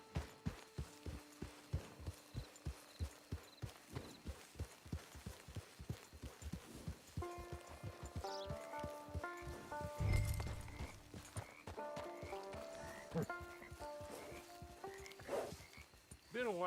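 Rhythmic clip-clop of horse hooves trots steadily in Red Dead Redemption 2 Online, joined partway through by soft game-style music tones, with a brief thump near the middle.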